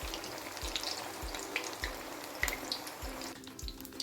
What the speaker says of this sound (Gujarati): અને પછી એકદમ ધીમા ગેસે આપણે એને સરસ એકદમ ક્રિસ્પી થાય ત્યાં સુધી તળી લઈશું